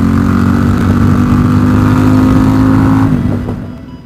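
Loud Ducati XDiavel motorcycle engine humming steadily at speed, then easing off and fading toward the end.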